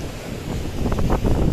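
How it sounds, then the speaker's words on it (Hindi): Strong wind blowing on the coast at Ross Island in the Andamans, a steady loud roar buffeting the microphone with surf churning underneath, no voices. "हवा भी काफ़ी तेज़ चल रही है यहाँ पर।"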